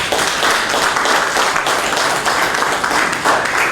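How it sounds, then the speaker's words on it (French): An audience applauds the poet Elisabeth Ngom Faye at the dedication of her poetry book, a dense, steady wash of clapping held at full strength from start to end. "que je demande d'applaudir très fort"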